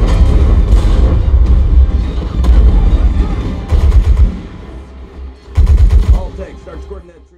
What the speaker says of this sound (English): the tank shots in this movie can give you a serious kick in the chest